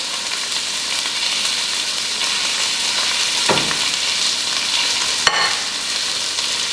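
Asparagus and mushrooms frying in a hot pan, a constant close sizzle with a couple of brief stirring scrapes.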